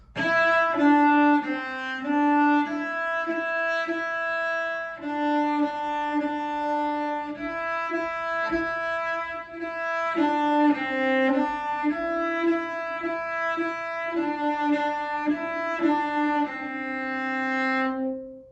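A cello plays a slow, simple tune of sustained notes from Suzuki Minuet No. 3, solo and close, with brief gaps between phrases.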